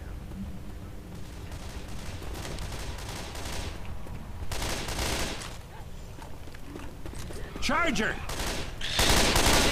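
Rapid gunfire crackles through a Left 4 Dead 2 zombie fight, bursts of shots rising and falling over several seconds while players shout to each other.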